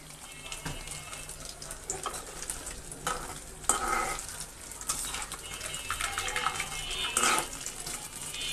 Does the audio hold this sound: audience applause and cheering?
no